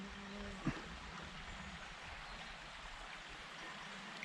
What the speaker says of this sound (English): This is the base of the river that comes down from the mountain, feeds a reservoir.